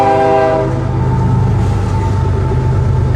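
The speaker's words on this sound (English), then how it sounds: "this loud train is going to go through again" A loud train passes close by, a heavy continuous rumble with a sustained horn blaring at the start over the rolling roar of the wagons.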